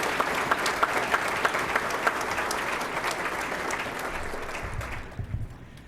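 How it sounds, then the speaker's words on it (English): Steady, full applause from a banquet audience at a scholarship dinner, sustained clapping that holds evenly for several seconds before tapering off near the end. "Please join me in a round of applause for our wonderful school board."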